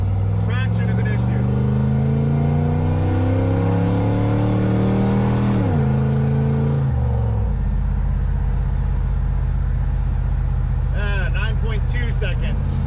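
A 1969 Lincoln Continental accelerates from 0 to 60 with a loud engine roar that climbs through rising gear pulls, drops back, then settles into a deep steady drone. Traction is poor and the tires slip.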